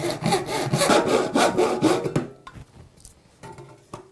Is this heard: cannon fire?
no